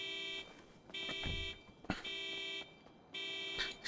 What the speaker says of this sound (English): This bloody alarm going off.